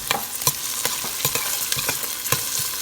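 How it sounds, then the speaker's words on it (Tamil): Fennel seeds, fenugreek and crushed garlic stir-fry in a pan for a Sri Lankan drumstick and prawn curry: a continuous sizzle broken by repeated sharp scrapes and knocks of a spoon, loud and close, with no talking. "அடுத்ததாக பெருஞ்சீரகம், வெந்தயத்தையும் அதோட குத்தி வச்ச உள்ளியையும் போட்டு மிக்ஸ் பண்ணுவேன்."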